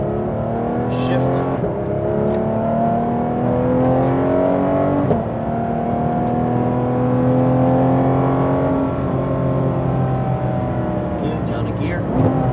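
Porsche GT3 RS engine accelerating hard on a track, a steady loud rising howl with gear-shift breaks and renewed climbs, with an instructor's voice talking over it.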